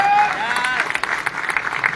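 Applause from a convention audience, dense clapping held at a steady level for a couple of seconds while a voice carries over it.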